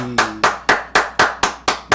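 Loud, close hand claps in a steady, even rhythm, about four per second, each sharp smack decaying quickly before the next, after a game crash.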